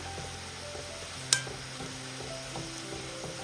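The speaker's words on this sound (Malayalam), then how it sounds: "എണ്ണ നല്ലതുപോലെ ചൂടായിട്ട് ലോ ടു മീഡിയം ഫ്ലെയിം വയ്ക്കുക. എന്നിട്ട് ഇതൊന്ന് ഫ്രൈ ചെയ്തെടുക്കുക." Something like pappadam deep-fries in hot oil over a low-to-medium flame, a soft, steady bubbling sizzle broken by one sharp metallic clink of a utensil.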